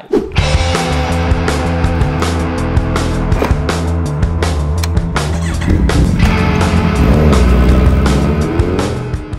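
A Kawasaki Z1000R motorcycle rides along, its engine droning loud and close with shifting revs, heavy wind rumble and road noise, as picked up by a DDPAI Ranger M1 dashcam.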